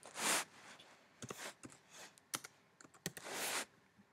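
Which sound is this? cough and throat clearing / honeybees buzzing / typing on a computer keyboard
typing on a computer keyboard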